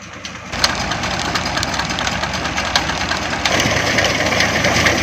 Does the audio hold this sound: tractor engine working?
yes